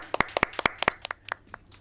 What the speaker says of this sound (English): You're getting a real rising round of applause from the studio as well, chaps.